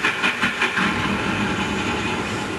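A toy electric train from an old film rattles along its track with a fast, even clickety-clack over a low rumble. The sound is close and steady, and no one speaks.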